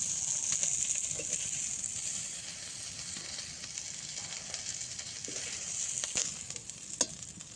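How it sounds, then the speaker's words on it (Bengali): Fish fries in hot oil in a pan, a steady soft sizzle with light crackles and occasional stirring clinks, fairly quiet and with no talk. "মাছটা ভাজা ভাজা হয়ে গেছে এরকম লাল লাল করে"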